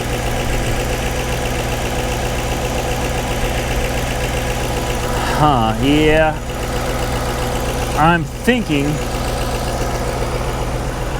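A car engine with a possible head gasket issue and no coolant in the cooling system idles steadily throughout with a low, even rumble, while someone speaks briefly over it partway through.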